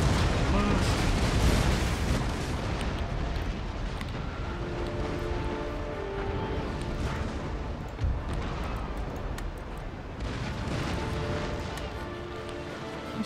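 Naval cannon fire in Empire Total War as ships trade broadsides, a continuous loud rumble of booming shots and crashes, with a voice talking over the battle.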